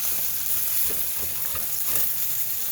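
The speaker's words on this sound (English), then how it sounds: "this is so much fun to cook on a wok. It's just make turning and flipping your stuff like this, any vegetables, potatoes," Potatoes frying in a hot wok as they are stirred and flipped, a continuous loud sizzle with soft scraping and tossing sounds spread through it, close up and with no one talking.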